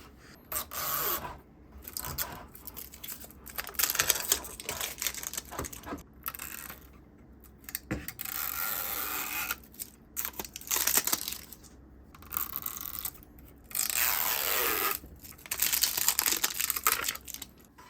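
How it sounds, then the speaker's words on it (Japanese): Plastic packaging and protective film being peeled and crumpled off a new Wi-Fi router, giving close, loud bursts of crinkling, scraping and rustling separated by short pauses. "やっと梱包取り終えました。"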